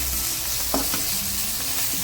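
Food frying in plenty of oil in a pan, a dense, steady close-up sizzle with a few light stirring knocks and scrapes.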